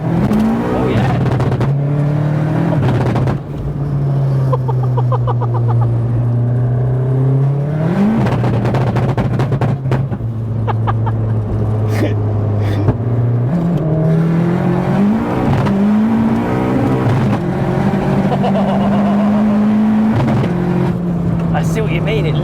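Big-turbo MK1 Seat Cupra making over 500 BHP, its engine droning and rising through repeated pulls with boost held on throttle lift, heard from inside the car under ongoing conversation between occupants.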